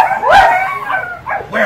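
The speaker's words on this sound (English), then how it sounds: "What kind of noise does a dog make?" A dog yips and howls in a few short, high, whiny bursts, loud and close, with no speech.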